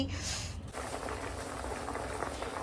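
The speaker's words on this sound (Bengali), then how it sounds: "এখানে কামিনী আতপে পায়েস বসানো হয়েছে দেখো টকবক করে এখন ফুটছে" Rice pudding (payesh) of Kamini rice bubbling as it boils, a close, steady, dense simmering wash that holds throughout without pause.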